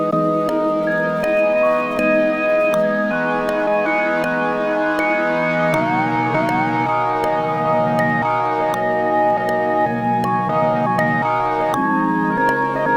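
A chopped sample flip rearranged into a new chord progression, its final section pitched down five semitones; sustained harmonic chords and a steady beat play alone throughout, dense and loud, with a noticeable drop in pitch near the end.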